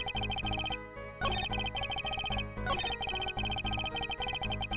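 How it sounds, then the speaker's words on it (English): A phone ringtone in the Apollo Justice: Ace Attorney video game, a repeating electronic melody with regular bursts, ringing continuously and alone. "Shut up, phone. Not the time."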